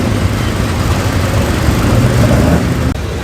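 Classic sports racing cars on the Oulton Park circuit give a steady, loud, low engine rumble throughout, close and unbroken, with no voices.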